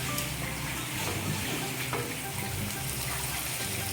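Cooking oil frying in a pan in a home kitchen while a separate pot of water heats for blanching spinach or kangkong, giving a steady close hiss and crackle with watery noise throughout and no talk.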